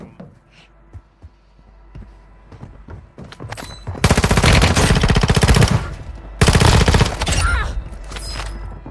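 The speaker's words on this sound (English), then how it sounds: "I'm shooting a guy directly in his back," Machine-gun fire from a multiplayer shooter, Warzone Mobile, rips out in two long loud bursts after scattered lighter shots and taps, with faint talk underneath.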